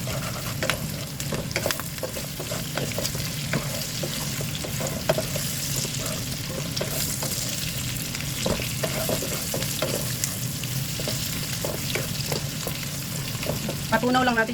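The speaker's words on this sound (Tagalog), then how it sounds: "Patunaw lang natin yung brown sugar guys." Brown sugar melts in a hot pan with black pepper, star anise and bay leaf while being stirred, giving a steady, dense sizzle and crackle that runs without pause from start to finish.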